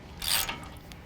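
A wrench loosens the 21mm lower ball joint nut on a 2015-17 Ford F-150 4WD, giving one short, close ratcheting burst that fades quickly in a quiet garage.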